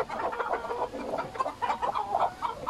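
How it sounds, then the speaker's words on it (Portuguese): Ko Shamo miniature chickens cluck nearby in a continuous run of soft, murmuring clucks and short calls. "Olha a barbela daquela galinhazinha coxama"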